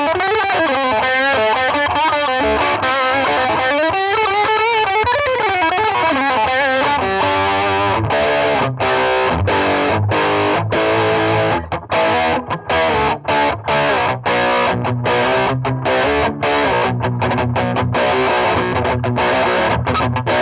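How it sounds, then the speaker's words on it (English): Electric guitar played through an Armored Amplification Little Rascal low-watt combo used as a preamp, distortion set low, giving a hard rock tone: strummed chords and riffs ringing loud and sustained, then tighter rhythmic chugging with short pauses. "That's a good hard rock tone out of this thing when you just use it as a preamp"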